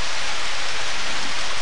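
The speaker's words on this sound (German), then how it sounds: "Wir können hier im Regen rumstehen." Steady, dense rain hiss from the farming video game Harvest Moon: Back to Nature, loud and continuous with no other sounds over it.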